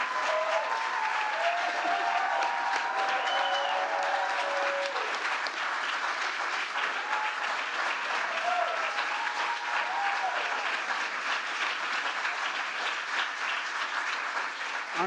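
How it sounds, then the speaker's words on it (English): Sustained audience applause at a labor secretary nomination ceremony, dense and even for the whole stretch, with voices and cheers audible through the clapping. "I'm gonna close my eyes and pretend you're clapping for me."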